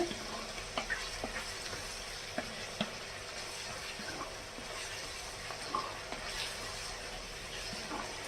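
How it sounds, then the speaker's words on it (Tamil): Ginger garlic paste sautéing in a pan for Chettinad crab gravy, giving a steady, soft sizzle with occasional stirring scrapes and clicks throughout, no talk. "நல்லா போட்டு இஞ்சி பூண்டு விழுதோட பச்சை வாசனை போகிற வரைக்கும் நல்லா வதக்கிக்கோங்க"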